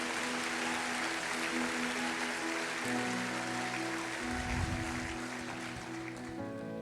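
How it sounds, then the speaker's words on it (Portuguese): A church congregation at a Sunday service applauds in a steady, dense wash of clapping that carries on for several seconds, with a low voice or music underneath. "Dê uma salva de palmas a Ele se você crê"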